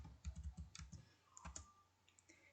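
Quick, soft clacks of computer keys being typed nearby in a short, uneven burst, followed by a few scattered faint taps as a command is entered in a drafting program for a topographic plan.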